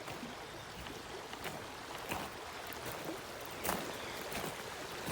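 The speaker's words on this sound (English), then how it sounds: "But this is the creek we're gonna be fishing. This is Deer Creek." Deer Creek, a stream feeding a reservoir, flows and burbles in a faint, steady wash with occasional small splashes, heard at a distance.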